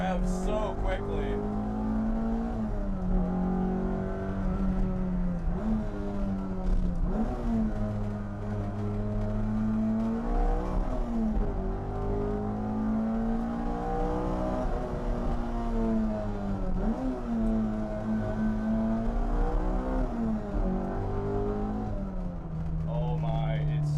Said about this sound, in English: Revs so quickly.